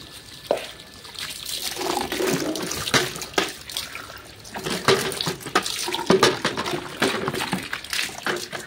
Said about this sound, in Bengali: এবার কলে জল নিতে হবে।